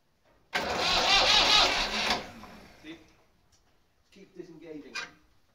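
A Massey Ferguson 135 tractor engine cranks on a cold start. One loud, rough cranking burst lasts about a second and a half without catching, then quieter clunks and some talk follow.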